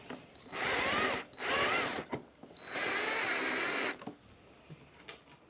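A cordless power drill drives a screw while fitting audio gear on a Road Glide motorcycle, three sustained whirring bursts with brief pauses and a pitch that sags under load, close and clear.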